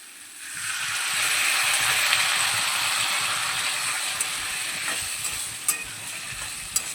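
Water poured into frying potato and pointed gourd masala gives a broad, steady sizzling hiss that holds fairly loud for several seconds, with a few brief crackles toward the end.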